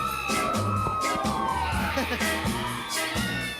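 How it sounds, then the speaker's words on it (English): A crowd cheers and whoops loudly, with shouts and yells rising over a dense wash of noise from a large audience. "I want a rousing round of applause for someone we're going to talk to next."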